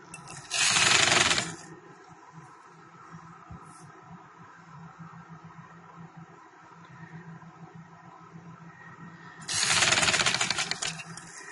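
A sewing machine stitches white trouser fabric in two loud, dense bursts near the start and end, each lasting about a second, with a quieter steady hum in between.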